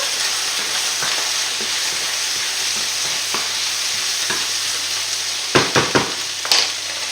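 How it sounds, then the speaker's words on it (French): Meat for a chicken blanquette with mushrooms frying in a pan, a steady close sizzle throughout with a few sharp scraping stirs near the end. "Je vais remuer ma viande."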